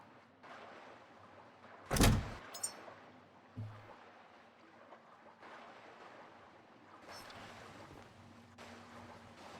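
Water in The Last Caretaker game glitches out, a steady wash of waves and wind interrupted by a sharp loud burst and a few abrupt clicks and dropouts that break the flow.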